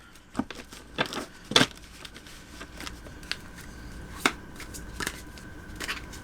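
Tarot cards shuffled by hand in a series of brisk riffles and snaps, close and fairly quiet, with soft rustling between the louder bursts.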